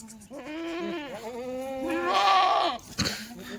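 Kathiyawadi goats being unloaded, bleating close by in several loud, wavering calls, one after another, with a brief knock near the end.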